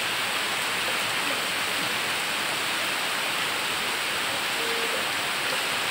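Heavy rainfall drumming on surfaces outdoors, a thick, continuous roar of droplets that stays uniform across the whole stretch, with no one talking.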